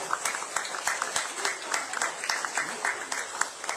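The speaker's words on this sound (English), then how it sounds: "I would like them to stand up and give a round of applause for our new candidates" A crowd at a party press conference claps for its new political candidates, a dense patter of many hands with scattered louder claps, steady and moderately close, with a voice faintly mixed in underneath.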